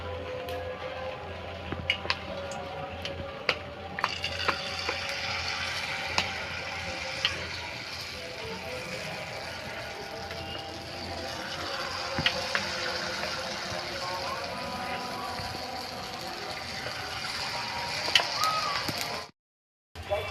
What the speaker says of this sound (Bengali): তেলটা গরম হয়ে গেছে এবার জিলাপিটা ভেজে নেব